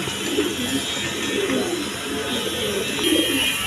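White Jacobin pigeons coo in soft, rolling repeated calls amid a steady wash of other birds in a busy loft.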